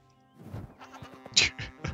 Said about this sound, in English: Tufts of wool taken from bleating sheep.